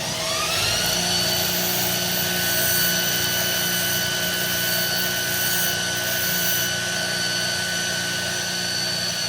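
A bench grinder sharpens a tungsten electrode for TIG welding with a loud, steady high whine nearby. Faint rasping touches are heard along with it.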